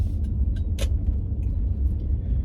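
A car engine idles and rumbles steadily at low pitch while the vehicle is being parked, with a few faint clicks and knocks over the continuous drone and no talk.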